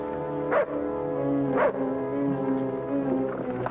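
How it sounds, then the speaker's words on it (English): A dog barks a few times in an old Western TV episode, sharp yips spaced about a second apart over a sustained low tonal drone, moderately close. "If that dog moves, shoot him."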